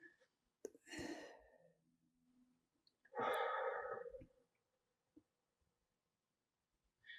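Slow deliberate breathing, two long audible breaths, one in then out, close and soft with quiet pauses between.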